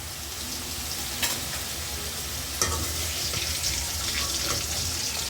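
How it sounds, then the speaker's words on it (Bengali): Potatoes fried with turmeric and salt give a steady, close sizzling hiss, with two brief clanks of a utensil against the pan. "হলুদ করে লবণ দিয়ে আলুগুলো ভেজে নেব।"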